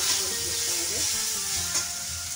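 Vegetables stirred in a hot pan for egg chowmein, sizzling steadily up close with scraping strokes of a utensil, while faint tones and murmurs sit underneath.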